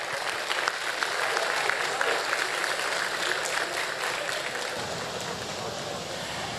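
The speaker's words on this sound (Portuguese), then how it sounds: "Aplausos para o pessoal do refino" A factory crowd applauds the refinery staff, with dense, steady clapping and cheering that stays loud throughout. Voices mix into the applause.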